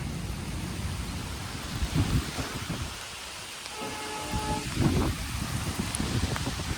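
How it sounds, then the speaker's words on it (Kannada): Steady heavy rain pours down with a dense, continuous hiss, broken by low rumbles of thunder; no voices. "ಫುಲ್ ಜೋರು ಮಳೆ ಹೊಂಟದ"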